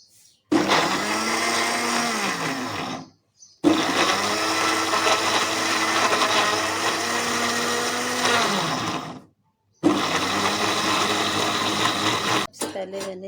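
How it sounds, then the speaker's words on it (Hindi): A kitchen blender grinds soaked urad dal in three long bursts, loud and close, with a steady whirring motor that shifts pitch as the batter thickens, separated by brief silent pauses. "हम ग्राइंड कर लेंगे।"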